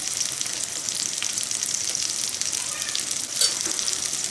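Eggplant pieces seasoned with salt and a little turmeric fry in hot oil in a pan, giving a steady, close, dense sizzle that barely changes throughout, with no talking.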